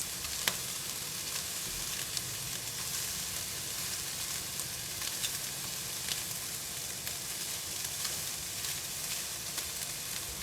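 Butterflied shrimp with garlic oil sizzle steadily in a hot grill pan, a dense continuous crackle and hiss with occasional sharper pops, close and even throughout with no voices.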